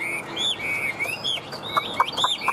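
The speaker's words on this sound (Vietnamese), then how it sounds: "xin mời các bác nghe giọng hót của em nó nhá" A caged Chinese hwamei songbird sings in short whistled phrases mixed with sharper chirps, fairly close and moderately loud over a faint background hiss, with no talking.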